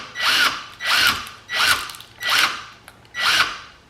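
Five repeated bursts of a power tool, each about half a second long with a rising-falling whine, evenly spaced, close by, no talking.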